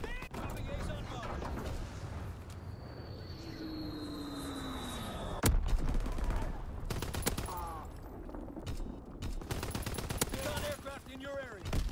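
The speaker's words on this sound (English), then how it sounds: "Fighter pilot inbound. Strafing the target." A Call of Duty WWII fighter plane makes a strafing run, its engine tone sweeping past as bursts of machine-gun fire rattle out in several clusters. Game radio voices talk over parts of it.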